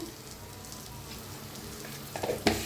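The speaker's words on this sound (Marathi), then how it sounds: "तर छान याला भाजून घेऊया" Spices for matki sambar roast in a pan with a steady, quiet sizzle and crackle, followed near the end by a brief scrape of stirring.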